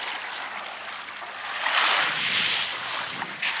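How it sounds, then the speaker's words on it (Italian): Sea waves along the Calabrian coast wash in as a steady broadband surge with some wind noise, swelling louder midway through and staying close with no voices. "Ah, questo è il mare della Calabria."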